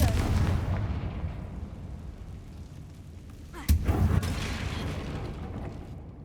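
A Confringo fire spell blast in the video game Hogwarts Legacy, a rumbling explosive burst with a sharp crack midway, set over a low background rumble.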